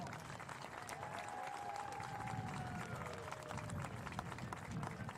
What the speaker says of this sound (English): Let's give a big round of applause to an all-time Titan great